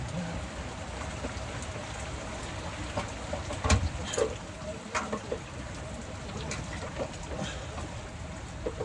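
Rain patters steadily on the ground and scrap metal in a flooded California junkyard, with scattered nearby drips and knocks and no clear talk.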